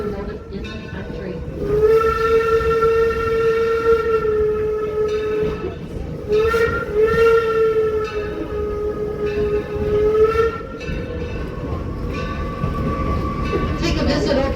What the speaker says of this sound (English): We have the Torch Lake that's pulling our train right now.